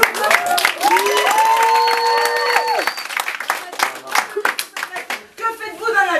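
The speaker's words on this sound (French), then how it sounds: "Alors, on applaudit bien pour Mamadou." Cabaret audience claps and applauds for a performer, loud close hand claps turning into a rhythmic clap-along, with voices and cheering mixed in.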